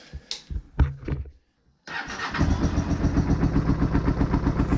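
A car engine with a poorly breathing exhaust cranks after a few knocks and a pause, catches and settles into a loud, steady running idle with a pulsing exhaust beat.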